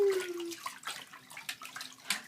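Water runs and splashes while shampoo is rinsed from a baby's hair at bath time, irregular pouring and dripping close by, with a brief tonal squeak at the start.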